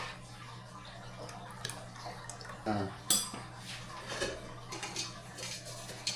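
A utensil scrapes and clinks against a pan while stirring a roux for homemade mac and cheese, with soft intermittent taps over a steady low kitchen hum.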